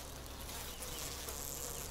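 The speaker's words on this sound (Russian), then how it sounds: "Тут вот пчелка тоже какая-то там ползает." Honeybees at an open hive during a colony inspection in a queen-rearing apiary produce a steady, dense buzzing hum that stays even and fairly quiet throughout, with no voices.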